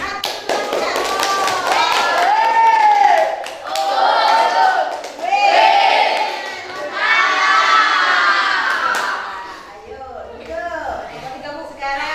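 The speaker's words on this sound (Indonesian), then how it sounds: "Kita berikan tepuk wow." A classroom of children performs a rhythmic clap chant in unison, shouting chanted syllables between bursts of synchronized clapping, loud and close, with a few voices trailing off at the end.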